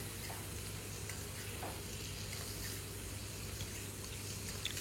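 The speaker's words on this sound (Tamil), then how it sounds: "சிக்கன் நல்லா சேராயிடுச்சு." A Cajun-crusted chicken breast sears in a hot pan with a steady, even sizzle that holds close and constant throughout, with no voices.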